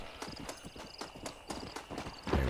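Horse hooves clip-clop in Red Dead Redemption, a steady walking rhythm of evenly spaced, crisp hoofbeats close by, ending in a louder thud.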